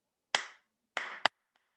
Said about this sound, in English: I clap a rhythm and then you copy it